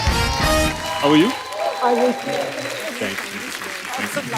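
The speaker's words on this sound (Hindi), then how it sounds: "जोरदार तालियां होनी चाहिए।" Studio audience on The Kapil Sharma Show, a Hindi TV comedy talk show, applauding a guest's entrance; loud, dense clapping that starts under a voice and then carries on steadily.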